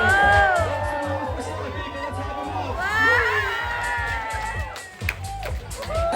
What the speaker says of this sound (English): with a big round of applause for him